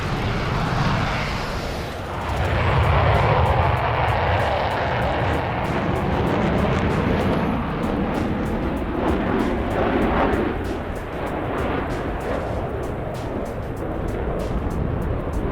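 Several aircraft engines roar in a steady, loud, continuous wash during a formation takeoff in a flight video game, with the broadband rumble holding level throughout and no talking.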